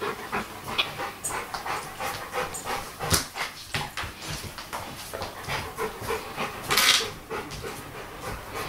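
A dog pants in quick, rhythmic breaths close by, with a few soft whimpers and one brief louder burst partway through.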